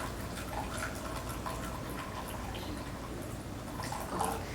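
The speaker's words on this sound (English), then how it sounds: "Take your hot water and pour it into your large bowl." Hot water pours steadily into a large bowl, a continuous splashing, gurgling fill that stays fairly even and close, with no talking.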